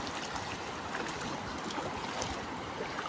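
Choppy sea waves wash steadily along a shallow beach on a windy day, a continuous broadband rush of surf and water with no talk.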